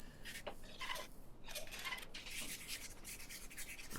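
A titanium knife handle being hand-sanded with 320-grit sandpaper: close, steady rasping strokes repeat in an uneven rhythm, with no talking.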